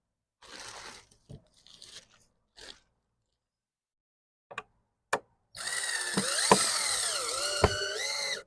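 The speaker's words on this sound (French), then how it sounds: "On va finir de visser l'autre bord." Power drill driving screws into wooden boards on a storefront: a few short clatters and taps, then a loud, close, sustained motor whine lasting about three seconds with rising and falling pitch as the screw bites into the wood.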